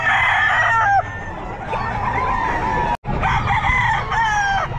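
A one-year-old Boston gamefowl rooster crows loudly and close at a busy pet market in Bocaue, with clucks and other poultry around it. A second crow follows after a brief gap.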